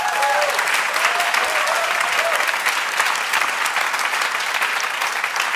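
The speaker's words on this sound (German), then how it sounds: "dieser Applaus sagt dir" Dense, sustained applause from a studio audience at a German Schlager TV show, loud and even throughout, with a few faint whoops and voices rising over the clapping.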